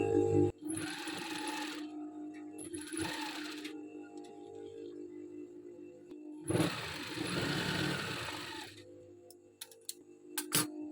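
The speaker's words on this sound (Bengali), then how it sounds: "সেলাই দিয়ে দিচ্ছি ভালো করে ফিতাটা আটকে থাকার জন্য" A sewing machine runs in three bursts, the longest near the end, as it stitches a ribbon onto a kameez neckline, with quiet pauses and small handling noises between runs.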